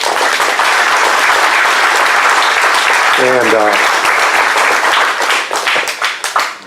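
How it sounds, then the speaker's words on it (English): A crowd bursts into sustained, loud applause and claps steadily for several seconds, with a voice briefly speaking over it before it tapers. "a big round of applause"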